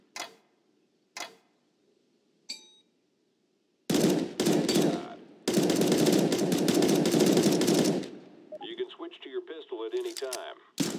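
Counter-Strike: GO training session with loud bursts of rapid automatic gunfire in the middle, preceded by a few sharp isolated clicks and followed by chiming game sounds.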